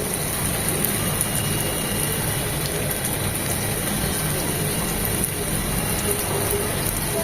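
Beef sizzles in a pan for Chinese beef chow mein, a dense, steady, rain-like frying hiss that carries on evenly throughout.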